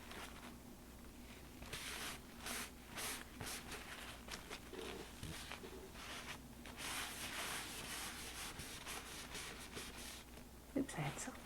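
Soft, steady rubbing on watercolor paper lifts a resist, making a faint, close brushing scrape that continues in repeated strokes.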